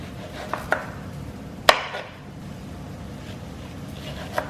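A knife carves mango flesh off the seed on a cutting board, giving a few sharp taps and one louder clack against the board, scattered over several seconds in a quiet kitchen.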